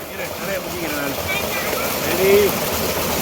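Water gushes steadily from a village pump set into an open tank, a continuous rushing wash with voices talking over it.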